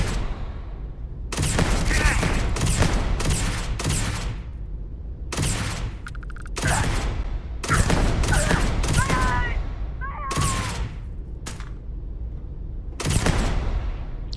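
Loud bursts of gunfire in Starfield, repeated volleys of automatic shots in clusters separated by short pauses, close and dominant, with brief speech between bursts.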